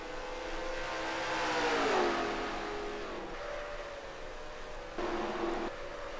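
Race cars on the track at Atlanta Motor Speedway in the video game NASCAR Racing 2003, engines whining and rising in pitch as cars pass, moderately loud and without talk.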